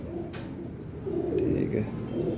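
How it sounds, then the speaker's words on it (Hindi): Low, throaty pigeon cooing rolls on in soft repeated bursts, close by, with faint background noise and a brief sharp click near the start. "बड़ा तगड़ा कबूतर है"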